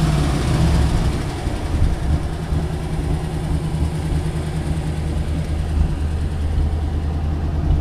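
A 1955 Mercury Monterey's engine idles smoothly with a steady, even low rumble that holds at a constant level throughout, close by and with no voices.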